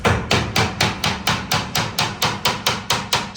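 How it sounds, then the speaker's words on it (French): Steady hammer blows on wood while building lower shelves from reclaimed formwork timber in a garage, about a dozen sharp evenly spaced strikes, loud and close with no talk. "Je suis pas très bon au marteau."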